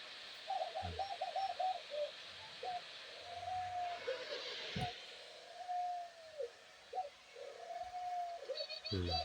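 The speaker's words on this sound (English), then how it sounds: "You crazy bird!" A pet bird, a pigeon or dove playing in the breeze of a handheld fan, gives a run of soft repeated coos close by, with a brief thump midway and a faint hiss in the background.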